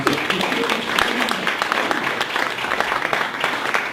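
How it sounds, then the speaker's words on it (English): An audience at a talk gives a round of applause for the speaker, with steady dense clapping throughout and a voice speaking over it. "let's give Dave a round of applause"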